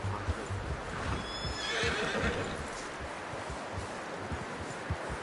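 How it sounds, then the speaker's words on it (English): A horse whinnies nearby in the video game Red Dead Redemption 2, followed by soft, irregular hoof clops and shuffling, with no talking. "You should really tether that horse, Arthur."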